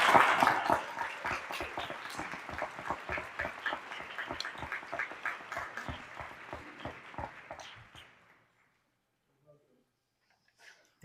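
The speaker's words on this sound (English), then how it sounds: "Please give them a big round of applause." Audience applause at a school recognition ceremony, fairly loud, with clapping and scattered voices, tapering off and stopping around eight seconds before near silence.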